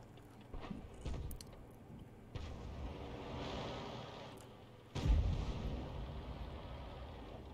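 A tank gun in a tank video game fires a round at an enemy T-28, a heavy, booming blast that lands near the end after quieter engine rumble and mechanical clanks.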